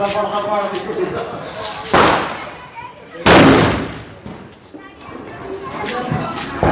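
Two loud Diwali firecracker bangs go off about a second apart in Punjab, each with a sharp crack and a rumbling tail, amid voices and background noise.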